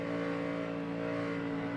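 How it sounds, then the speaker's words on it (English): A NASCAR stock car engine revs under a driver pedaling the throttle at the 2010 Southern 500 at Darlington, a loud sustained roar with steady harmonic tones, dominant and without commentary over it. "You can hear him starting to really pedal the throttle."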